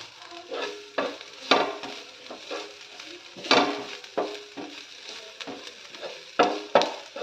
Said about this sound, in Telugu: ఈ ఉప్పు, పెప్పర్ పౌడర్ యాడ్ చేసిన తర్వాత మళ్ళీ ఒకసారి కలుపుకోవాలి.